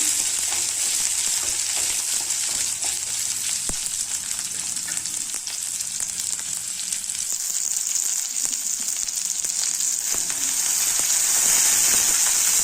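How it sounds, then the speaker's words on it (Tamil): Small onions and garlic cloves sauté in hot oil, a bright, continuous sizzle with occasional stirring scrapes and clicks, close and steady throughout without any voices. "ஒரு நாலு பல்லு பூண்டு அதையும் போட்டுக்கலாம் சின்ன வகையை வந்து நல்லா வதக்கிக்கலாம்"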